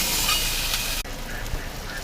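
Ginger-garlic paste and spices fry in a pan for stuffed pointed gourd, giving a bright steady sizzle and hiss. A sudden break in the middle is followed by quieter frying with a faint stirring knock.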